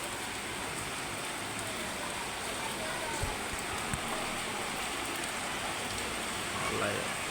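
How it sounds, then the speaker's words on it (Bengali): Steady rain falls in a continuous soft hiss across surfaces and streets, fairly quiet and even throughout, with a couple of faint drips or knocks standing out briefly. "আল্লাহ বৃষ্টি দিছে"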